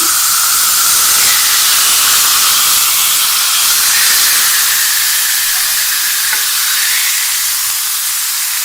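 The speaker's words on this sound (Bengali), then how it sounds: "গ্রিল ফ্রাই প্যানের মধ্যে আমি মুরগির মাংসগুলা দিয়ে দিচ্ছি" Chicken pieces for honey BBQ chicken are laid into a hot grill fry pan and give off a loud, constant hiss of sizzling steam that stays close and unbroken throughout.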